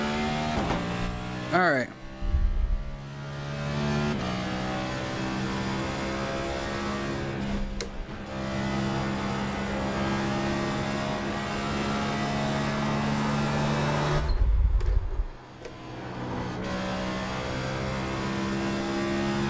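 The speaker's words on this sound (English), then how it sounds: "let's just get out there in the next gen car in the Chevy Camaro" Chevy Camaro Next Gen race car engine in iRacing on the Nashville Superspeedway, a steady loud drone at high revs with a brief gear change early on, while someone talks over it.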